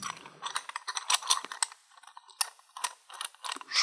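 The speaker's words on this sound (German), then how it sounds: "Jetzt setzen wir hier den Fräser ein." A milling cutter is fitted into a collet chuck on a milling machine, giving close, crisp metallic clicks and ratcheting rattles in irregular bursts with short quiet gaps, no talking.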